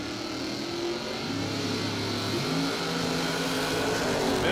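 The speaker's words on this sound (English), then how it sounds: "Big block Chevrolet powered dragster." A big block Chevrolet powered dragster engine roars steadily at a distance, a continuous broad drone that swells slightly toward the end, with no voices.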